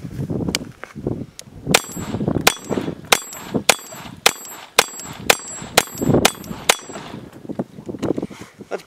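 A Ruger 22/45 Lite pistol fires at an MGM steel mini auto-reset popper target; more than a dozen sharp shots are each followed by a ringing metallic clang, spaced roughly half a second to a second apart and loud.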